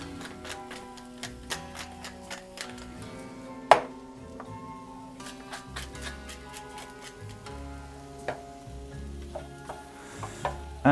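Onions, peppers and ham fry gently in a pan, a soft steady sizzle broken by occasional stirring knocks and clinks, with no talking.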